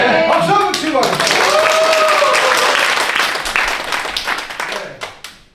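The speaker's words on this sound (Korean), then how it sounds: "박수 한번 치고 가겠습니다" A lecture audience breaks into loud, close clapping, brisk and dense at first, then thinning into scattered claps as it fades out, with a voice speaking over the start.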